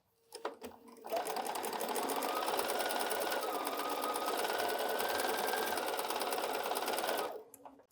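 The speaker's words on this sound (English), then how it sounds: "we're just going to sew 1/4 inch, corner to corner" Sewing machine running steadily for about six seconds as it stitches a quarter-inch seam corner to corner across quilt fabric for a quadrangle quilt block, preceded by a few handling clicks.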